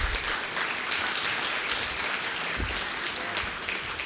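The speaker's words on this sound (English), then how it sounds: "join me in giving our panel a round of applause." An audience gives a lecture panel sustained, dense applause that fills the room evenly for several seconds, with no voices over it.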